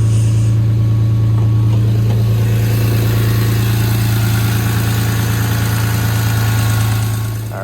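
BMW E36 with a swapped Euro S50B32 straight-six idling steadily up close, a loud, even low hum with slight vibration that holds constant before easing off at the end.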